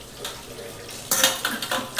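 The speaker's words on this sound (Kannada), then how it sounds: "ಪಾತ್ರೆ ತೊಳ್ಕೊತಾ ಇದ್ದೀನಿ" Steel pots, pans and cutlery being washed in a home kitchen, with quiet water noise and then a run of sharp metallic clanks and clatters close by.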